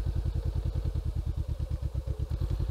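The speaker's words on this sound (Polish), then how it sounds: "motor zaczyna ruszać" Motorcycle engine pulsing close by with a rapid, even thumping beat, running steadily as the bike pulls away from a standstill.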